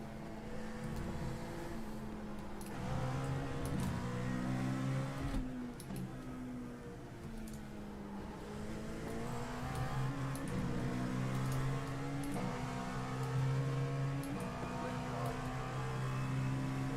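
Race car engine droning steadily at Monza in the iLMS racing game, held at high revs with gear shifts stepping the pitch up and down through the run, loud and continuous with no talk.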